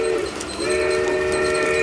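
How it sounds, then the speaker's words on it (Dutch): A train passes close by with a loud, steady rumble and sustained whistle-like tones throughout, no voices present. "Bij treinen hoort lawaai"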